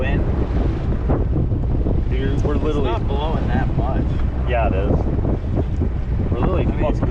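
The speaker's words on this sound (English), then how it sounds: "It's a southeast wind." Wind buffets a microphone out on a lake, a steady low roar with gusting rumble that runs the whole time, while voices talk over it and water may lap faintly beneath.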